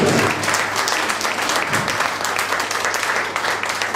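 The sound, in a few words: audience applause at a Neapolitan song festival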